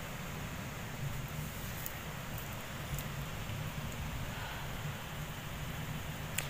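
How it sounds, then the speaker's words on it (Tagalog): Heavy rain pouring steadily at night, heard from indoors as a dense, unbroken hiss with a low rumbling undertone, constant and fairly loud, with no voices. "nang biglang umano yung ulan"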